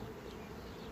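Buckfast honey bees buzzing at a hive, a faint, continuous low drone that holds steady through a short moment, with no talking over it.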